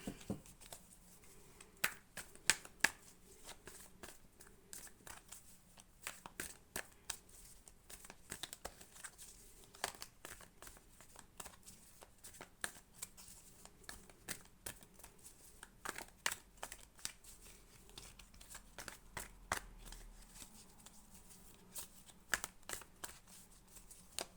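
Cards are handled and shuffled close by, with quiet scattered snaps and riffling clicks over a soft background.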